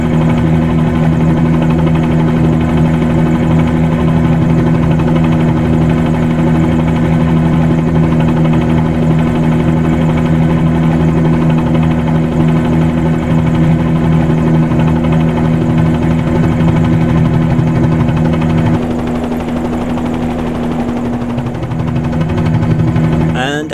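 Piston-engined B-47-G2 helicopter flying along a coastline in a flight simulator, a steady droning engine hum with rotor throb, loud and constant, slightly changing tone near the end.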